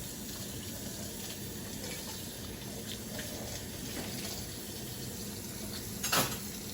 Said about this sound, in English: washing up